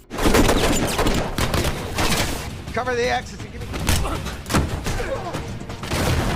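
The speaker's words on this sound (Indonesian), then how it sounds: "Dengan begitu, mereka pun ketahuan dan terjadilah baku tembak." Gunfire from a Jason Statham action film, bursts of shots and crashes running through a dense, loud action soundtrack, with a brief voice partway through.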